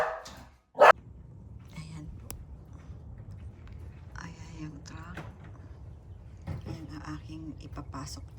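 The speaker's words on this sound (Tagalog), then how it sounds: "tumatakot ang aking aso" A dog barks once sharply near the start, then a few muffled yelps and scuffling follow, with people talking in the background.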